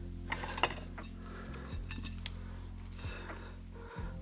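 Old Soviet-made crockery being handled in an abandoned village house, giving a few bright clinks and chinks of dishes up close over a steady low hum, with no one talking.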